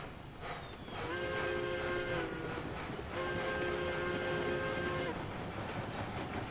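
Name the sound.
steam train in video game Railroads Online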